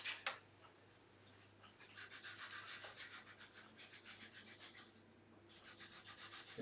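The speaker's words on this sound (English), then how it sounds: "Now I'm not going to use a real coarse sandpaper because I don't want to take a lot off, so I've got a piece of 320" Dry, even strokes of 320 grit sandpaper on a sanding block rubbing over wood, a steady rhythmic back-and-forth rasp lasting several seconds, close and fairly quiet, with no talking.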